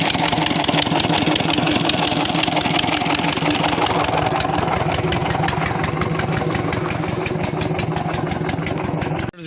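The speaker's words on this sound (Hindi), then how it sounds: "ट्यूबवेल चला दिया है" A tubewell pump engine runs steadily in a village field, a loud, continuous mid-low rumble with a fast knocking idle rhythm that carries on without pause until it cuts off at the very end.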